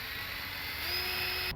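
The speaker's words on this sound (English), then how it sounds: "Let's drill our first hole right here." A power drill whines steadily while boring a pilot hole for rod holder screws on a fishing boat, a brief continuous high-pitched hum that cuts off abruptly.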